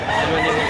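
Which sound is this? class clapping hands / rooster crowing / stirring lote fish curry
rooster crowing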